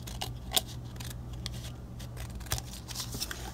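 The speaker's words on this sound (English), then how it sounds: "all you're going to need to do is go in between two scallops in the center and cut it right in half" Scissors snip through green scalloped paper, cutting a sheet in half for a Halloween cauldron gift card holder; a few quiet, crisp cuts close by, separated by soft paper rustling and no talking.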